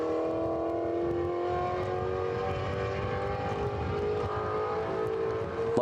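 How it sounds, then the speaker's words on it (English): A Ford Mustang race car at the GRIDLIFE Finals at Pittsburgh International Race Complex, its engine droning loudly and steadily past on track with a rising, sustained tone. "Love the sound of that Mustang. Makes some great noises"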